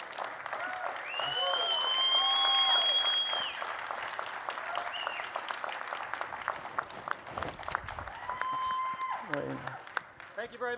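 Applause from the audience at a political conference session, sustained loud clapping with whistles and cheers rising through the first few seconds, then dipping before a second swell of cheering and clapping.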